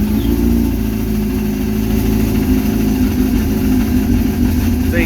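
Yamaha RX-1 snowmobile engine running at a steady, loud idle close by, a rough low rumble holding even for several seconds with no change in revs; no speech.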